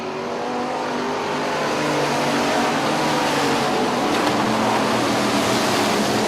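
Hobby stock race cars roaring around an oval raceway in a close pack, engines revving loudly and continuously with a dense, rising mechanical roar, no voices over it.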